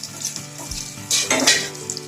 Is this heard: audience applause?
no